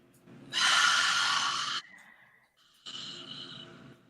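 A forceful breathy exhale, a long hissing rush of air, then a pause and a second shorter breath out, close and alone.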